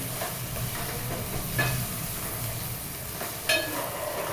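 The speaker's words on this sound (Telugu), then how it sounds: "ఇప్పుడు పన్నీర్ ముక్కలు ఫ్రై చేసుకున్నాయి ఉన్నాయి కదా అవి ఇందులోకి వేసేసుకొని స్లోగా కలపండి" Paneer pieces frying in a pan for paneer dum biryani, a constant soft sizzle and hiss with a couple of brief utensil clinks as the pieces are slowly stirred.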